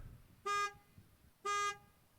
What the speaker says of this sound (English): At Heil, we always want to honk our horns before we start the vehicle to alert anyone around it.